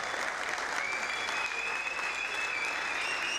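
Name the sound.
crowd applause at climbing festival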